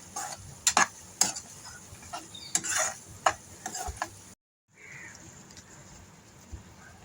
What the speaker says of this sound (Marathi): आता आपण याच्यामध्ये मीठ टाकणार आहोत, चवीपुरतं मीठ, आणि चांगलं परतून घेणार आहोत